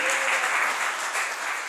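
A church congregation bursting into applause, dense and loud clapping from many hands that carries on steadily without a break, with no clear speech over it.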